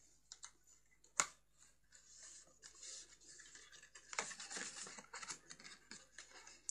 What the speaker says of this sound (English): just reinforce them score lines by burnishing them